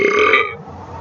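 A single loud, drawn-out human burp lasting about half a second, close to the mic, then fading into quiet room sound.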